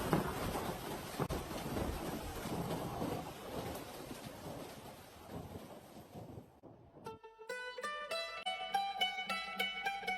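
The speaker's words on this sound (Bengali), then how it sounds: "এই বৃষ্টি আর থামবার নয়" Dense, steady patter of cartoon rain with low rumbling for about six seconds, then cut off abruptly and replaced by a bright musical passage.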